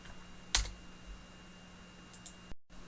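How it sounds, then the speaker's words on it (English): A single sharp computer keyboard key press, the delete key tapped once, standing out clearly against a quiet room hum, followed later by a couple of faint soft clicks. "All we have to do is click on the rectangle and hit the delete on the keyboard."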